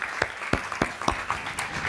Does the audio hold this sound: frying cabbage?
no